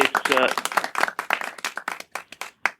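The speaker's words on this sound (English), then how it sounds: "wait for the applause" Scattered audience clapping, individual sharp claps that thin out and grow sparser over time, with a voice briefly audible near the start.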